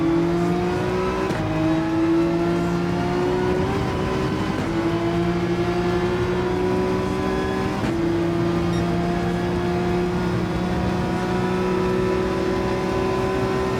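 Aston Martin V12 Vantage in Gran Turismo 7, its V12 engine droning loud and steady near the listener, pitch rising through a few revving climbs that break at shifts before pulling again.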